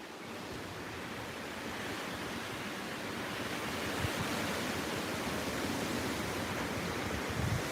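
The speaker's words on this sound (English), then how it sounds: "Oh my God, look at the water." Roaring surf and churning floodwater from Hurricane Isaias on the New Jersey coast, a steady loud broadband wash with wind, building slightly and holding constant throughout, no voices.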